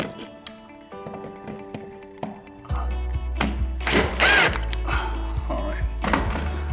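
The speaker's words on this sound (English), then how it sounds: "I'm just gonna tighten the other bolt." A bolt on a mini blind bracket is tightened, most likely with a power driver, giving sharp thunks and a buzzing whir up close, with a voice talking over part of it.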